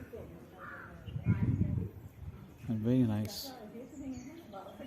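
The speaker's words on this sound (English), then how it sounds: "You can hear the birds chirping" Crows caw in a few harsh, repeated calls near a garden memorial burial ground, with fainter bird chirps in between and a person speaking quietly over the scene.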